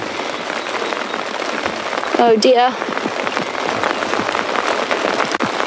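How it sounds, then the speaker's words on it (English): Heavy rain pouring on a safari vehicle at Djuma Game Reserve, a dense, constant hiss of drops drumming on the cover, close and loud throughout, with a person briefly speaking over it. "And it is pouring with rain."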